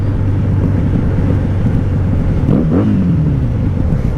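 A wrecked 1997 Honda Magna VF750C motorcycle cruising on a highway, its engine a steady low drone under heavy wind rush, with a brief rise in pitch partway through as the revs climb.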